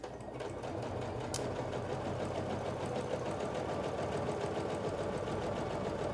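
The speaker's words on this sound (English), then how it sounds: "we're gonna be sewing with a 1/4 inch seam allowance" Sewing machine stitching fabric binding with a quarter-inch seam allowance, a steady close motor whir with rapid needle chatter running continuously throughout.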